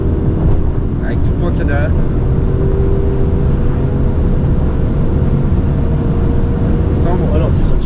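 Land Rover Defender with sequential gearbox accelerating, a loud steady low engine drone heard from inside the cabin, with people talking over it.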